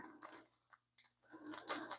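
Scissors snipping paper at a craft table while a glue book is made, a few brief, quiet crisp cuts in short bursts with pauses between them, no voices.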